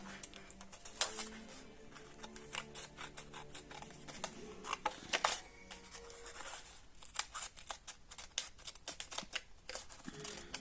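Scissors snip through paper for a lantern craft, heard as a quiet, close series of irregular crisp cuts and rustles, some quick bursts and some single snips, with no talking.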